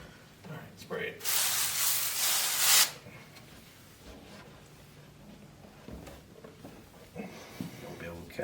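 Liquid sprayed onto a hot pipe during barn wiring work: a loud hissing spray burst of about two seconds, followed by quieter rustling and scattered voices talking nearby.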